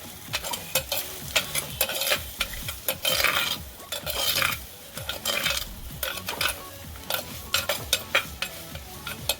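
Ridge gourd pieces are stirred with oil in a pan, with busy, continuous scraping and clattering of a spoon against the pan over a soft sizzle, close by with no voices.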